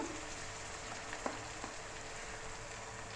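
Ginger garlic paste sizzling in oil with fried onions for a fish dish, a steady soft hiss with a few faint clicks of a spoon, no voices.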